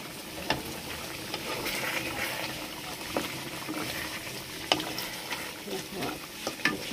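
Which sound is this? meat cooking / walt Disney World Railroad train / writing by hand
meat cooking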